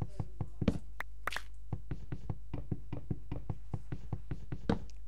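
Trees being chopped in the video game Minecraft, a fast, even run of sharp knocking hits repeating about three or four times a second, close and clear over a steady low hum, with no talking.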